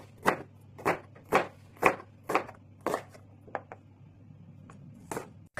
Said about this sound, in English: Cut a quarter of onion into small pieces.